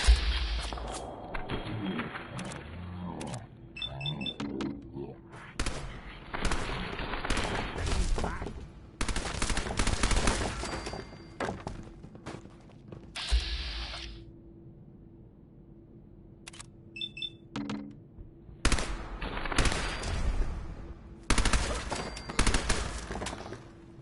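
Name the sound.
gunfire in the video game Fallout 4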